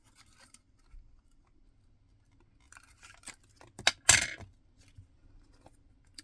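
Scissors snipping paper for paper piecing in card making: scattered small clicks and snips, then a few louder close cuts in a quick cluster near the middle, no talking.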